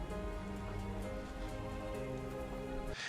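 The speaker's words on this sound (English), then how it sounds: "It's his tears that brought the rain." Steady rain falling in an anime episode, a continuous dense patter on surfaces that stays even and close, ending abruptly near the end, with no speech over it.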